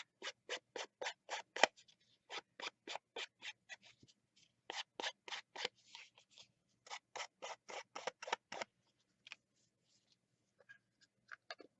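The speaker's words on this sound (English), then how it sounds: "I'm going to cut out my focal image" Scissors cut out a card image for a crafted artist trading card, a close, crisp run of quick snips in rhythmic bursts with brief pauses between them.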